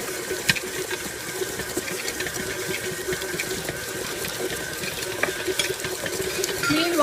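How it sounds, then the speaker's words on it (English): Christmas cake batter is mixed at a slow speed, giving a continuous, close whirring and churning with a faint steady motor tone and light sloshing throughout. "So now look at the mixing is in progress."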